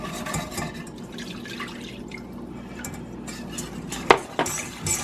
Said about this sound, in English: you can stir that flour right out of there